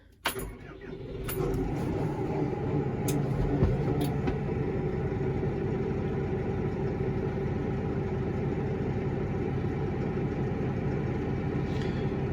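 A Deutz Fahr 6140 TTV tractor starts up with a brief key jangle and clicks, then settles into a steady, smooth low idle heard from inside the cab, constant and moderately quiet.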